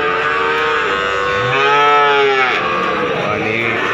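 A cow lets out a loud, drawn-out moo amid the steady crowd din and murmur of the Wonoasih cattle market in Probolinggo, East Java, where young calves are sold.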